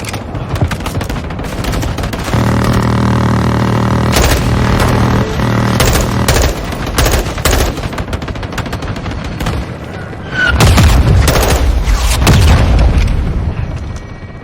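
Call of Duty Modern Warfare 2 combat on PlayStation 5 erupts in an air strike: loud repeated booms and bursts of gunfire that come in irregular volleys, with a heavier blast near the end.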